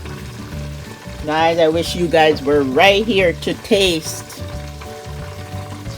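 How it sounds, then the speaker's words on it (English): Chicken and sweet potato sizzle and crackle as they fry in oil, a steady hiss running beneath a person talking enthusiastically. "frying the sweet potato with the chicken"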